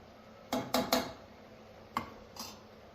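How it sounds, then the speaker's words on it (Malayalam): Amla pickle with a pinch of pepper powder being stirred in a pan: a cluster of three sharp metal clanks of a spoon against the pan, then two more separated knocks, close over a quiet background. "അതൊന്ന് ഇളക്കി കൊടുക്കണം"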